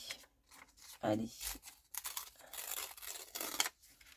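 Paper torn by hand while making a collage card, a few short ripping bursts with crinkling in between, close and fairly quiet, with a person speaking around them.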